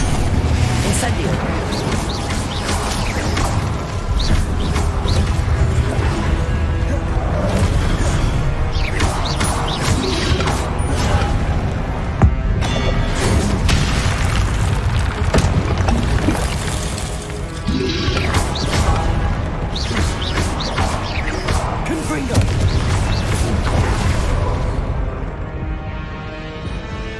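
Incendio fire spell effects in Hogwarts Legacy, forming a dense, loud wash of crackling bursts, booms and mechanical clatter that runs nearly unbroken for the whole stretch, easing off only at the very end.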